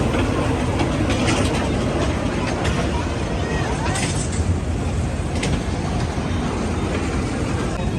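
A train passes close by near Guna Cave, producing a loud, continuous rumbling roar with a steady rattle throughout and no pauses.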